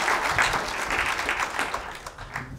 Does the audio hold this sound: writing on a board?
no